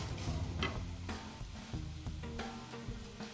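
Dry fruits frying in ghee for coconut karanji filling, a steady close sizzle with scattered crackles and soft stirring scrapes, no voices.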